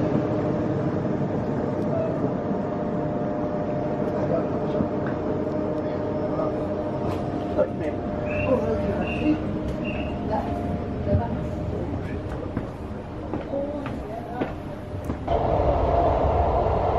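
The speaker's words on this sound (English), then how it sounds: "Is that even our train? No, this isn't our train." A train rumbles steadily past near Saint-Omer, northern France, with a continuous rolling roar and faint metallic clicks and squeals, loud and sustained throughout.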